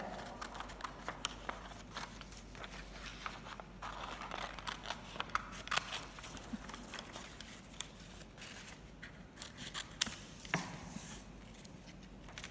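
Scissors snip through paper seaweed cutouts for an earth science classroom craft, giving a close, quiet run of irregular crisp cuts and rustles with no talking.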